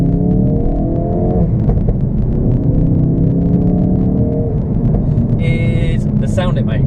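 A stock Ford Focus RS engine drones loud and close, with rising and falling tones as it pulls through the revs over a constant low rumble, and a few brief high chirps near the end.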